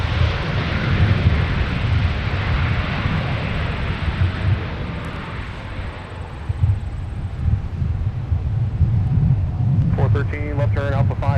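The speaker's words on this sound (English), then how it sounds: "here we have an A321neo landing in the meantime on 12 right" An Airbus A321neo landing on runway 12 right at Minneapolis–Saint Paul airport, a steady broad jet roar with wind rumble that holds throughout, and a voice talking over it near the end.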